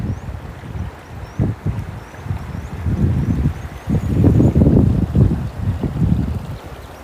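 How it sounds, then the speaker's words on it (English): Gusting wind moves through woodland in uneven surges, starting softer and then building into louder, rumbling buffets against the microphone, with faint bird calls above. "I can hear the wind starting to kick up."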